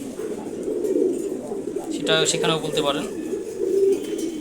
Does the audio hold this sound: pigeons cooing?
yes